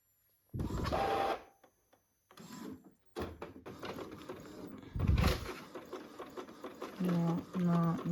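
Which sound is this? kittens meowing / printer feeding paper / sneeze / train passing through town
printer feeding paper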